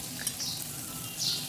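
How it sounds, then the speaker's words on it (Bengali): Potatoes frying in oil with salt and turmeric, a steady close sizzle and crackle heard alone, with no voices. "আলুটাকেও লবণ এবং হলুদ দিয়ে বেশ লাল লাল করে ভেজে নেব।"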